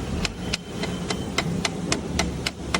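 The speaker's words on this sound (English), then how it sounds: "Bring the hammer. More tap on me." Hammer tapping at a steady, even pace during a system integrity test of a profile surface, giving about ten sharp metallic knocks, close and loud over a constant background hum.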